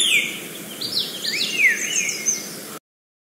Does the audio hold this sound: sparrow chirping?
yes